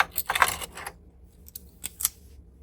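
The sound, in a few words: scissors cutting knitting yarn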